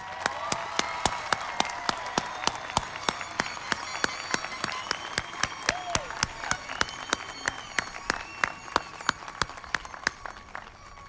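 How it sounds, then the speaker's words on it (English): Graduation audience at the Beverly Hills High School Class of 2017 commencement applauding teachers, with sparse, distinct individual claps standing out over a thinner spread of clapping and faint crowd murmur, fairly distant. "Please join me as I applaud them for their hard work and dedication."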